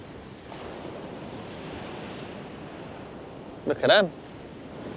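Stormy sea waves roll and break on Chesil Beach in a steady, loud roar with wind buffeting the microphone, and someone speaks briefly near the end.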